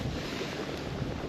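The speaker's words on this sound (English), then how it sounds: "That wind is pumping out there." Strong wind blowing outdoors by a lake on a warm water discharge lake in nasty winter weather, a loud, continuous rushing roar buffeting the microphone.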